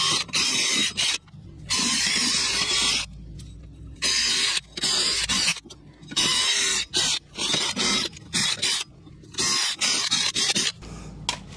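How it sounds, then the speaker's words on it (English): A wire brush or wire wheel scrubbing rust off the hub of a Toyota RAV4 during a rear brake job, harsh bristly scraping in repeated short bursts with brief pauses between strokes, close and loud. "I'm just gonna use this little wire brush or wire wheel"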